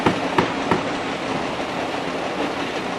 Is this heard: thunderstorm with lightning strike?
no